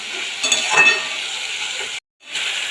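Onions and chili sautéing in a pan for a chanda fish curry, a steady close sizzle with light stirring that cuts out abruptly near the end.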